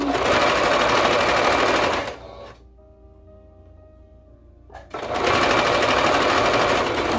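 A sewing machine stitching a romper pant runs in fast, loud, even bursts, stops for a few seconds of near quiet with a faint hum, then starts stitching again.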